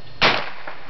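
A Ruger 10/22 rifle fires one sharp crack followed by a fainter second report a moment later, brief and close, with no talking.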